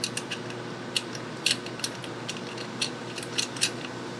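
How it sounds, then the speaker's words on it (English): Small metal clicks and ticks of a nut being threaded by hand onto a bolt on a split mini-bike rim, irregular light taps spread across the moment, close and fairly quiet, with no voices. "get the nut started."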